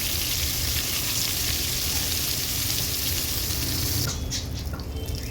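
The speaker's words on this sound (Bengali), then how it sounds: "বেগুনগুলো খুব ভালো করে এবার আমি ভেজে নেব" Eggplant slices rubbed with salt, turmeric and sugar sizzle steadily in hot oil, a dense continuous crackle that holds even throughout and shifts slightly near the end.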